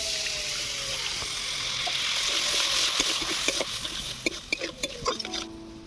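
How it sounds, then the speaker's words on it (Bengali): A little water goes into a simmering spiced potato-eggplant curry with chili, cumin and coriander powders. A sustained hiss and bubbling sounds with a spoon stirring and scraping the pan, and a few sharper clinks toward the end. "ধনে গুঁড়ো, মরিচ গুঁড়ো, অল্প একটু জল দিয়ে দিচ্ছি।"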